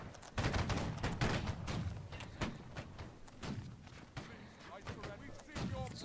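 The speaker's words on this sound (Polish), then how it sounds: "O, dwa dobre strzały." Musket volleys in the game HoldFast, a line-battle event, with repeated sharp crackling shots and thuds in quick succession, loud and near, mixed with distant gunfire and under intermittent voice chat.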